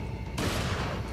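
A shotgun blast in the video game Resident Evil 4 bursts in loud and close after a brief quieter stretch, its broad roar sustained to the end without talk.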